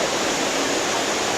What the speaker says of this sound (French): Je vais attendre que la cascade soit finie.